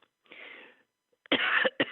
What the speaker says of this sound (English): I'm going to be coughing, I can tell.